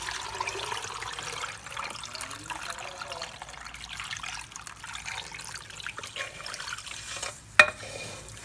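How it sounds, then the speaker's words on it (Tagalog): A salt water solution is poured over eggs, making a soft, steady trickle and splash of liquid at close range, with one brief sharp clink near the end. "Ipupour na natin siya sa ating itlog."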